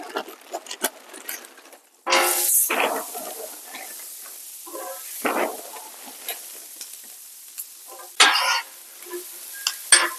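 French fries fry in melted butter on a Blackstone griddle, sounding as bursts of sizzling hiss and scraping stirs that come and go irregularly, with quieter gaps between, close and fairly loud, with no talk.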